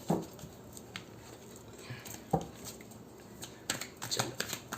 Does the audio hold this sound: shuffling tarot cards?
yes